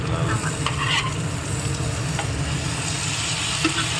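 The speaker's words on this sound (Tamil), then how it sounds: "இப்போ இதுவும் வதங்கணும் இல்லையா" Tomatoes sizzle and sputter in a hot pan, with occasional stirring scrapes over a steady frying hiss.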